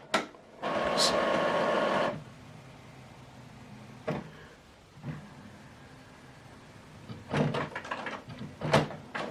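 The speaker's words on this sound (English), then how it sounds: "So now it's loading back the ink cartridges and everything." An HP OfficeJet Pro 9120e inkjet printer whirs mechanically for a couple of seconds while loading ink cartridges, then quiet clicks and a few short motor buzzes follow as the carriage moves, close by.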